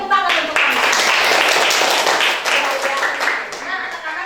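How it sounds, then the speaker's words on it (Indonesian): Classroom pupils clap their hands together in a burst of applause, loud and close, sustained for a few seconds before tapering off. "Tepuk tangan untuk kami."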